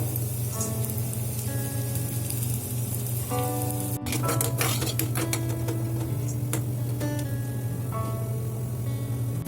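Coconut pieces roasting in a hot pan while making soft neyyappam, a steady close sizzle with scattered crackles and pops throughout, no voices.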